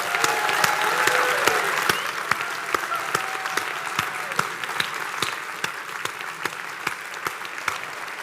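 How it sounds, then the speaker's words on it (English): An audience gives a round of applause at a talk on psychedelic dharma and spirit plant medicine, dense clapping at first that thins out to sparse, distinct claps by the end. "give them a rousing round of applause"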